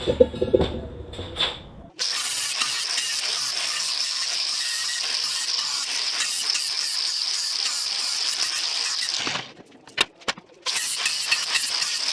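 Angle grinder cutting a metal piece for a grinder pedestal stand, a loud steady high-pitched whine held for several seconds, then brief stops and clanks before the cut resumes; short speech is heard before the cutting starts.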